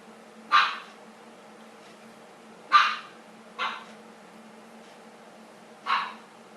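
A small dog in the video game Minecraft barks four times in short, separate yips spaced unevenly over a quiet background hum, each bark clear and moderately close.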